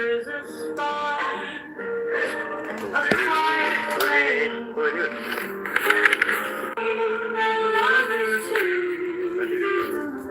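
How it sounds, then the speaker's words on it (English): A recorded Scottish Indian rock fusion song plays steadily throughout, a dense layered band mix with sustained melodic lines and a bright upper texture, loud and continuous with no talking. "It is Scottish Indian rock fusion type stuff, and it sounds like this."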